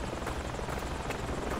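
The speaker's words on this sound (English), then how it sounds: "Head to the chopper once you spawn in." A helicopter in the military shooter game Project Reality fills the mix with a steady, loud rotor and turbine roar, continuous and close with a faint rhythmic chop.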